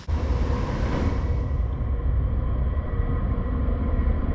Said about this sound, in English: this is probably the 4th train to go by